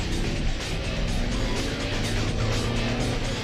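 A supercharged race car slides sideways on a circuit, its engine roaring loudly and continuously with a broad rasping tire and exhaust noise throughout, close and unbroken, with no talk.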